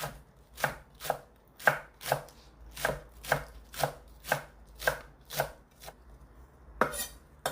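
A knife chops three stalks of scallions or spring onions on a cutting board for a lettuce salad: sharp, evenly spaced thuds, about a dozen in steady rhythm, close and clear with nothing else heard.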